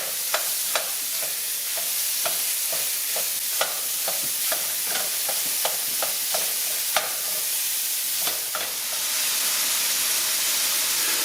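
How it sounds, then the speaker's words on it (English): Beef browning in an Our Place skillet over medium-high heat, a steady hiss of sizzling fat with frequent sharp spatula scrapes and taps scattered throughout, close and without talk. "put it up to about a medium to medium-high heat. And you want to start browning your beef"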